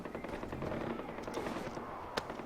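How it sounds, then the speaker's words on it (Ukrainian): Gunfire in the video game Far Cry 4, a dense rattling burst of distant shots over continuous game ambience, with one sharper crack near the end. "Постійно хтось когось стріляє."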